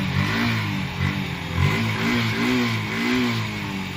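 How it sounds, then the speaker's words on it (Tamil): A Yamaha FZ V2 motorcycle engine with a fuel pump problem runs steadily at close range, its mid-pitched drone rising and falling slightly as the revs waver, with no talking over it. "இந்த மாதிரி இருந்தப்பையும் வண்டி கண்டிப்பா ஓடும்."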